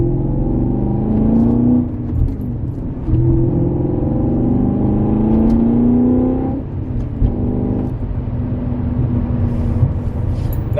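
A BMW car engine revs repeatedly, rising in pitch through several gear-like sweeps, loud and close, with brief dips between pulls.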